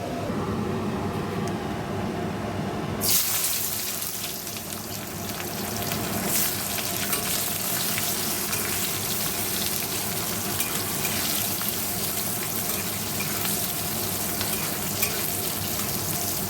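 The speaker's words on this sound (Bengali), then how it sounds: "পেঁয়াজটা ভেজে নিয়ে এই আলুটা নুন হলুদ দিয়ে ভেজে নেব" Onions fry in a pan for chicken biryani. A low bubbling swells into a dense, steady sizzle after a few seconds and stays close and loud to the end, with no voices.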